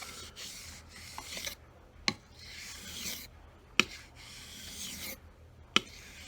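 Knife sharpened on a 1600 grit wet stone, a quiet, close, gritty swish of repeated strokes, each ending in a sharp tap or click as the blade leaves the stone, with short pauses between passes.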